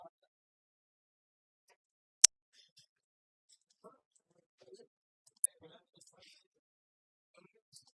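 A few sharp, isolated mouse clicks sound while selecting a complaint entry in a warranty complaint software application, sparse and quiet with brief pauses between them.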